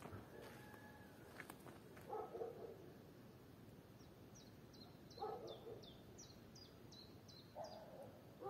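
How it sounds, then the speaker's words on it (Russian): Outdoors among early-spring trees not yet in leaf, a bird repeats a quick series of short high chirps, fairly faint, over quiet background noise with a few soft muffled thuds. "Птички поют."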